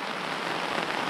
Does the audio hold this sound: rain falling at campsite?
yes